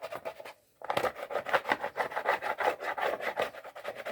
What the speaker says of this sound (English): get your scraper in there and start getting it off